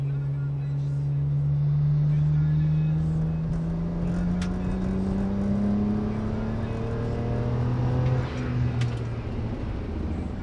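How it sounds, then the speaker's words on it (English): A BMW with an N54 engine, fitted with new downpipes and wastegate actuators, accelerates smoothly without misfiring. Its engine drone rises steadily in pitch, loud and close, with a brief dip near the end. "she definitely accelerates without misfiring"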